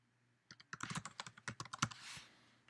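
Quick, close clatter of a computer keyboard as a username and password are entered, a rapid burst of keystrokes in a quiet room lasting about two seconds.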